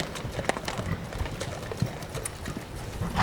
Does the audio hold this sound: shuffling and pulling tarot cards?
no